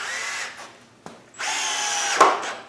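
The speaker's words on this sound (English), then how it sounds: "we're going to put screws in to keep the sawhorses attached" A power drill driving screws through wood into sawhorses under a glass fiber reinforced concrete table: two close, loud whining bursts, the second longer, separated by a sharp knock and a short pause.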